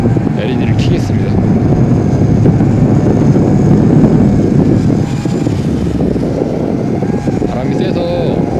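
A YiZhan X6 Tarantula drone whirs with a constant, fairly loud hum under strong wind buffeting outdoors, while someone talks over it.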